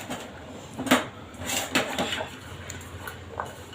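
Everest chana masala stirred in a pan, with a spoon scraping and clinking against the metal in a few irregular strokes over soft background noise.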